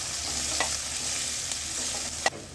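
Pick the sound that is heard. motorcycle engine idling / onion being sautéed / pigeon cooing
onion being sautéed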